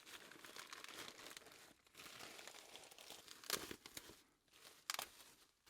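Cardboard and plastic packaging is torn and crumpled open while unboxing an Aerotec Ace Bronze Pilot watch, close, quiet crinkling and rustling with a couple of sharper rips.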